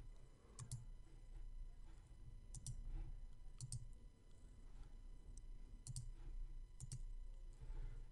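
A computer mouse clicks quietly in a room with a faint steady hum, giving about six sharp, separate clicks, some in quick doubles.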